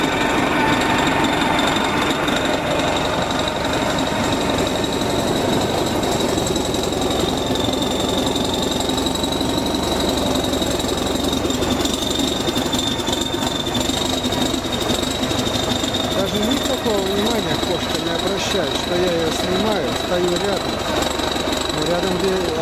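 A bulldozer working in clay with its blade raised rumbles as a loud, continuous engine drone with a steady whine and clanking, running unbroken throughout while voices talk over it.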